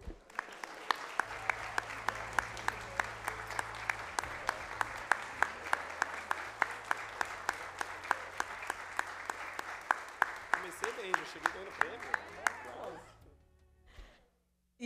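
Sustained applause from an audience at a formal state session, steady dense clapping for about thirteen seconds before fading out, with a low hum beneath.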